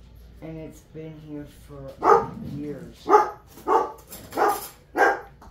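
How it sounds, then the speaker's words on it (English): A pet dog barks in the background of an indoor room while someone talks, several sharp barks arriving in a steady run through the second half. "And I do apologize for the dog in the background."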